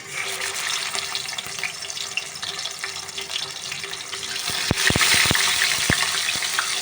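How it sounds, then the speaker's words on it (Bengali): Fish goes into hot oil in a wok, a loud, dense sizzle that swells in the later seconds, punctuated by a few sharp knocks and scrapes near the end. "কড়াইতে তেল দিয়েছি, গরম হয়ে গেছে তেল। আমি মাছটা দিচ্ছি এবার।"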